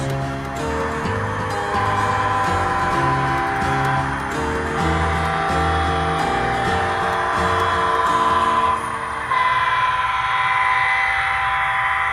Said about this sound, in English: As the train rolls by DA Tower, the Coronation thunders by